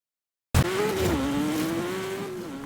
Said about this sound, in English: It is a level 5 Ford Focus RS.